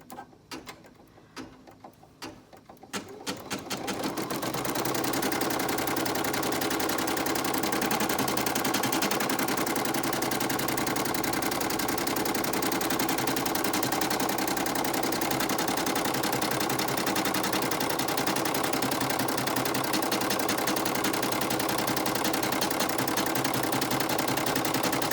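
After a few soft clicks, a sewing machine starts up and stitches continuously at a fast, steady, loud whir that runs without pause.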